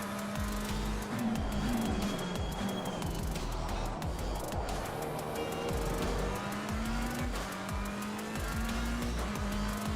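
A McLaren GT race car in Assetto Corsa Competizione laps Donington, its engine droning and shifting pitch through gear changes, with tires squealing through corners; loud and continuous, with no talking.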